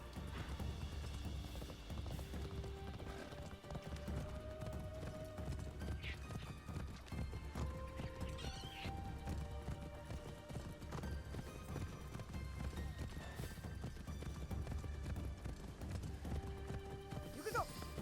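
Steady clip-clop of horse hooves trotting in the video game Assassin's Creed Shadows, with an occasional whinny, set against a continuous background score with melodic tones.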